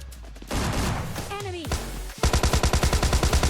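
Gunfire from a shotgun in PUBG Lite, mixed with other in-game weapons: a sharp blast and a crashing rumble, then a rapid string of rhythmic shots, with someone talking over the action.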